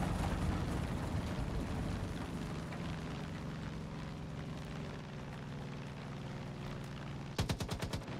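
Video game gunfire in Far Cry 5: a rapid burst of automatic shots rings out at the end, following a long stretch of rumbling engine-like drone.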